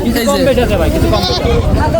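A goat offered for sale bleats in wavering, drawn-out calls close by, with other animals and people talking steadily around it.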